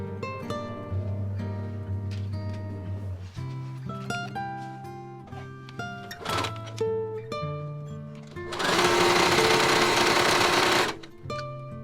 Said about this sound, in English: sew down the side seam